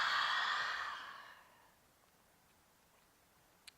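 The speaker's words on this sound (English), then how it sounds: "And exhale it out." One deep, breathy exhale during slow-flow yoga, loud at first and then fading gradually into quiet, followed by near silence.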